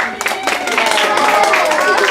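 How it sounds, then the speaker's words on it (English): An audience claps for Charles the magician at a live show, a brief, close burst of handclaps running steadily throughout, with a voice over it. "Give him a round of applause"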